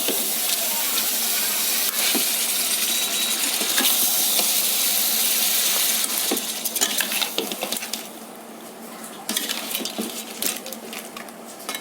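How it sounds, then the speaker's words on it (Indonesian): Sweet and sour crab is stirred in a pan, with a loud steady sizzle and hiss overlaid by repeated scraping clinks of a utensil against the metal. "Aduk sampai rata."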